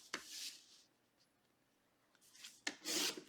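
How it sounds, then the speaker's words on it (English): A paper trimmer slices through cardstock in two quick rasping strokes, one at the start and one near the end, with a quiet pause in between. "You're going to put it in your trimmer cutter and you're going to cut those at 4 inches."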